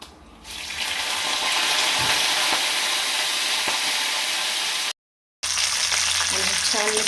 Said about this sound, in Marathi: मी फक्त आता ह्याच्यामध्ये मोहरी टाकली आणि एक लाल मिरची त्याची कट करायची आणि कढीपत्ता